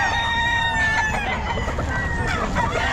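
A stag rooster crows loudly and close, one long strained call over a busy market with a murmur of voices and crowd noise underneath.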